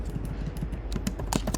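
Fast, light keystrokes on a computer keyboard, an irregular run of clicks close by with a few sharper taps near the end, heard alone without talk.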